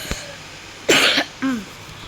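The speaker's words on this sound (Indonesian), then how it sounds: "Sorry guys, batuk guys." A person coughs several times in short, sharp bursts, close and fairly loud against a quiet indoor background.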